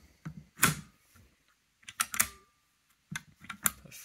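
The bolt of a 1937 German K98k rifle being worked, a few crisp metallic clacks and slides in separate bursts, close and clear with quiet pauses between.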